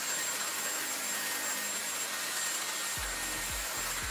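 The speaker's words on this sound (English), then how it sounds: "Let me blow dry my hair right now" A Dyson hair dryer blowing steadily while hair is dried, a loud continuous broadband rush with a few low thumps and handling bumps near the end.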